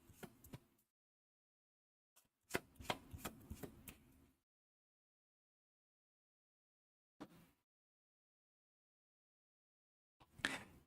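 Cards for the Too Many Bones board game are shuffled in several short riffling bursts, close and quiet, separated by stretches of silence and a few faint taps near the end.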